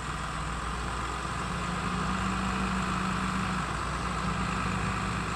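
A 2002 Case IH MXM140 Power Shift tractor engine idles with a steady, even low drone, moderately loud and unchanging throughout.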